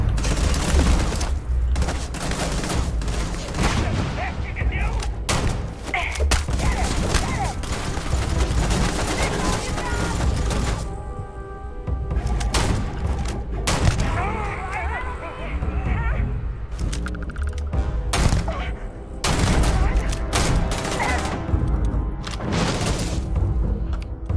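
Dense, sustained gunfire in the space RPG Starfield: rapid overlapping shots and bursts keep going almost nonstop for over twenty seconds at steady loudness, with a brief lull midway and voices mixed in.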